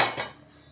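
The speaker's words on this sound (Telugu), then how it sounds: "పొయ్యి మీద పెట్టుకోవాలి ఇట్లా." A single metallic clank as a pot is set down on a stove, ringing briefly before fading.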